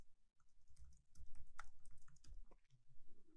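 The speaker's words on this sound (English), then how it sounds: "in this box, type a password for the admin user" Password typed on a computer keyboard during a MySQL installation: a quiet, close run of light key clicks in an irregular rhythm, a brief pause, then more taps, with no talk.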